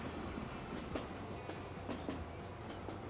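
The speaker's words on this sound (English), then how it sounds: "Cargo train going out." A cargo train in Transport Fever 2 rolls along quietly, with a faint, steady rumble and soft, irregular rail clicks.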